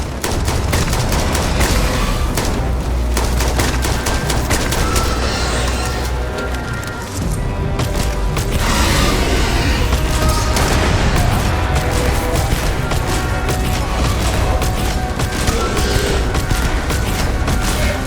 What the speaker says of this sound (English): Morphs! Open fire!